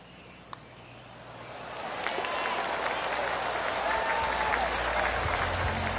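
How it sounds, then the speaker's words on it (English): Spectators clap around a golf course at the Travelers Championship, the applause swelling from a faint patter into a sustained, moderately loud wave of clapping heard from a distance, with crowd murmur underneath. "I can hear the golf claps around the course."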